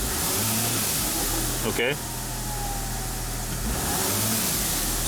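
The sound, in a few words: Mercedes Sprinter van engine while driving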